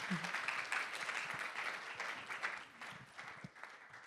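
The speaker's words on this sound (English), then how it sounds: "How about a round of applause for our speaker?" An audience at a conference talk on bringing Asian games to Western markets gives its speaker a steady, fairly faint round of applause that lasts the whole few seconds.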